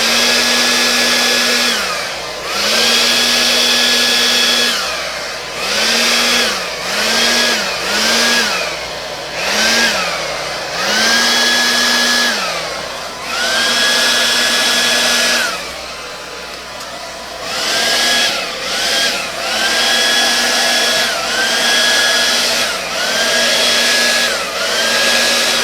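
A hair dryer blowing blue acrylic pour paint, loud and close, switching on and off in repeated bursts of whirring airflow with short gaps between them, with no voices.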